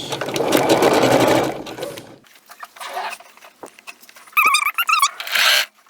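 A sewing machine stitching a dress runs in a loud steady whir for about two seconds, stops for soft handling and fabric rustles, then runs again in short bursts.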